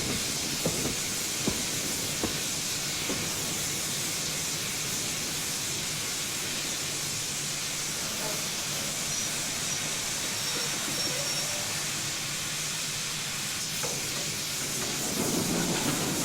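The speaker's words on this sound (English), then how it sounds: "let's get the train stopped." A train in Train Simulator 2016 brakes to a stop on the Maerdy line, giving off a continuous hiss of steam with a few faint clunks early on and no speech.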